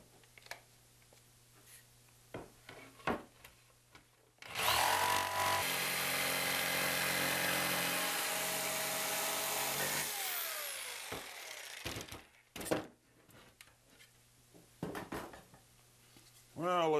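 Power saw cutting through wood at an angle during home construction work, a loud whining cut of about six seconds between quieter handling noises, with someone talking before and after.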